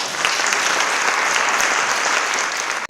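Sustained audience applause fills a poetry performance event, a dense, even wash of clapping from a large crowd that holds steady for about three seconds before cutting off abruptly.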